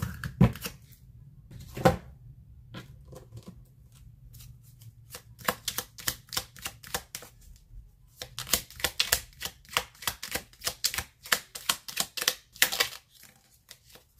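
Tarot cards shuffled and drawn by hand, a few soft riffles at first, then a dense run of crisp, close flicking and snapping card sounds alone with no talk.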